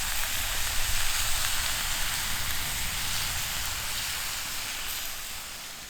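Food fries in a small skillet over an outdoor campfire, giving a steady, broad sizzling hiss that fades slightly toward the end, with no voices.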